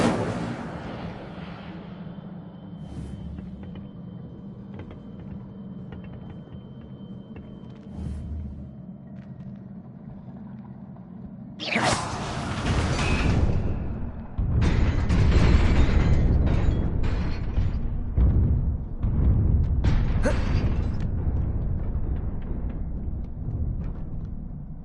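Incendio fire spell cast in Hogwarts Legacy: a quiet rumbling stretch gives way to a sudden loud whooshing burst, followed by sustained crackling, booming fire bursts that stay strong and close to the end.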